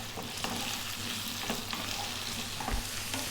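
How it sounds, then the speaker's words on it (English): Potato and green beans fry over medium-high heat, a dense, steady sizzle close by with occasional soft stirring knocks, heard alone without talk. "we're going to go in with our potato and our green beans. Like I say, above medium heat. Let's just go for about 4 minutes, stirring often."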